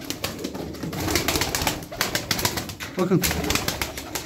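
Pigeons cooing close by in a loft, low soft coos repeating under someone talking throughout, with a brief flutter of wings.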